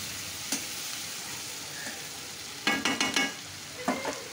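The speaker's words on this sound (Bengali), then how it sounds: "আলুটাকে লাল লাল করে একটুখানি মশলা দিয়ে নুন লঙ্কা একটু ভেজে নেব" Potatoes fry with spices, salt and chili in a pan under a steady sizzling hiss, with a few clusters of scraping stirs and clattering strokes rising above it, loudest near the end.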